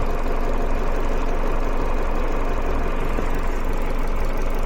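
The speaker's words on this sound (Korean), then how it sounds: "요즘 딱딱딱딱딱 하는 소리가 이 가스 인젝터가 작동하면서 엔진으로 가스가 공급되는 거예요" LPG gas injectors tick on a Chevrolet Malibu 2.0 GDI turbo engine converted to LPG, heard close up as a steady, rapid mechanical chatter over the constant running engine drone.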